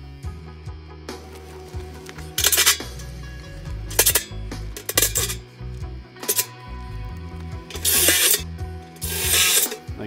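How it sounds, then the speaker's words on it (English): Screws driven from the inside out into a smokeless burn barrel, heard as close, repeated bursts of a power driver whirring and ratcheting with short pauses between each screw. "then we're gonna run our screws from the inside out"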